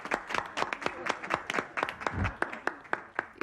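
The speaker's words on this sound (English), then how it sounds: "You're actually applauding." A small studio audience gives scattered, light applause, individual claps distinct and uneven, close and moderately quiet, with no talk over it.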